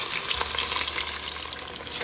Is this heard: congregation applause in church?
no